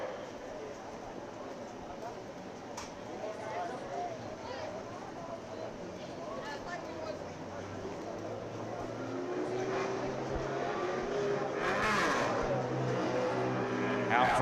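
Super late model race cars run practice laps around a short oval track, a steady engine roar that swells toward the end of the stretch. A public-address announcer talks over it.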